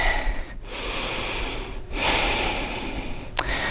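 Deep, slow breaths during a yoga session, heard up close as long airy inhales and exhales with brief pauses between them and one sharp intake near the end.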